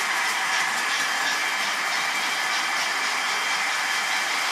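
A steady, loud whirring hum with a hissy edge, constant throughout, from two model trains running at full power.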